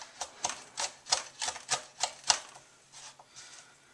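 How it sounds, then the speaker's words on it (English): A knife quickly and finely chopping garlic for bacon and egg fried rice, with about a dozen sharp, evenly spaced taps on a cutting board up close that slow and soften toward the end. "I'm going to take all my garlic here, and I'm just going to go ahead and give that a nice quick fine chop here."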